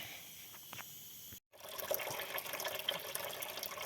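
Thin coolant emulsion pouring out of the heater core of an Audi A6 C5, a steady close liquid trickle and splash that starts suddenly after a short silent gap and continues alone.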